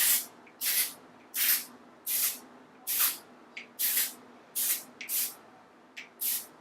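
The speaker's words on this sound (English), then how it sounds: "aimlessly spraying my face" Face setting spray misted in quick pumps, about nine short hissing bursts in a steady rhythm, close and crisp with quiet gaps between.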